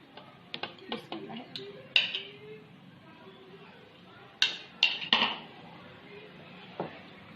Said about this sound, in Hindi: अब हम इसको हवन दस्ते में कूटेंगे